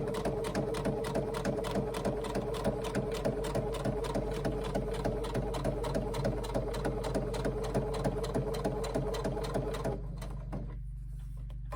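A sewing machine stitches a handbag in a fast, steady mechanical rhythm, close and loud for about ten seconds before stopping and leaving a low hum.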